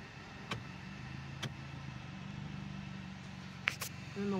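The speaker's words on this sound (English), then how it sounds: "There's a truck going in." A truck drives into a mill in Braddock, Pennsylvania, its engine a low steady drone heard from a distance, with a few sharp clicks and knocks over it.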